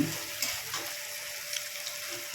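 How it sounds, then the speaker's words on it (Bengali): Coconut milk poured into a prawn malai curry mixture in a pan gives a soft, steady liquid rush with a faint sizzle, close and unaccompanied by talk. "এই মিশ্রণে নারকেলের দুধটা ঢেলে দেবো"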